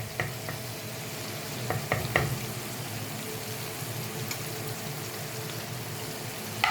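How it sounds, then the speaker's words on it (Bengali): Butter melts in a hot pan, giving a soft, steady sizzle close by, with a few light clicks and scrapes of stirring scattered through it and no talking. "দেখুন বাটারটা সুন্দরভাবে গলে গেছে।"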